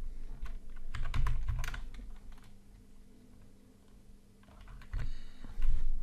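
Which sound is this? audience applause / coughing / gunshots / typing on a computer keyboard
typing on a computer keyboard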